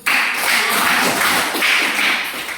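A small group in a room gives a burst of applause. The dense, close claps sound like loud taps and run steadily for a couple of seconds before easing off.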